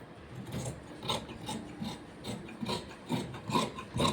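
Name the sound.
cutting blouse fabric while tailoring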